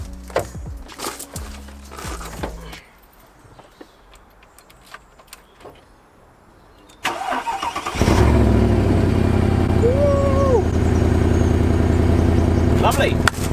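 A cheap used car, filled with water, cranks and starts, then runs with a loud, steady engine roar from close by after several seconds of quieter cranking and handling noises.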